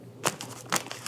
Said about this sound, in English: They just have like a little seal. Peel that off.